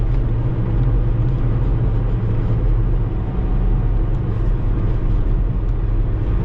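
A 1991 Subaru Sambar climbs a hill on light throttle without dropping a gear; its engine gives a steady, close, loud drone with road rumble throughout.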